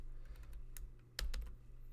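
A few faint, quiet clicks of keys on a computer keyboard while a line of code is typed, sparse taps over a low background hum.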